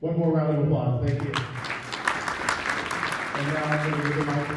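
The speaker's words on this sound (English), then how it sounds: "One more round of applause." Steady applause from an audience at a Weathersfield, Vermont town meeting rises in the middle, while a person talks over the clapping at the start and end.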